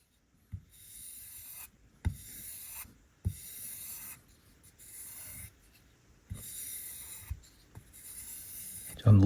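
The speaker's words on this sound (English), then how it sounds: "So I'm listening to which side scrapes a little more." A Winterblade Factor knife blade with a fresh 18-degree edge is drawn across a loaded leather strop in several separate soft scraping strokes, each a short hiss with a faint tap at the start, close and quiet.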